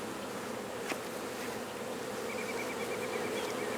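A honey bee swarm hums in a dense, continuous buzz close by, steady and layered with individual bees droning past, outdoors with no talking.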